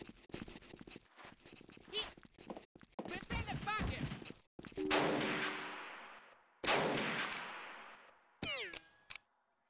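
Gunfire in Jagged Alliance 2 (1.13 mod) during a firefight between militia and enemies: a few loud, sharp shots with decaying tails, preceded by speech and busy game sounds.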